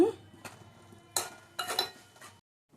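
A spoon stirs chopped onions, green chillies and tomato in a cooking pan, with several short scraping clinks against the metal in quick bursts, fairly faint and close.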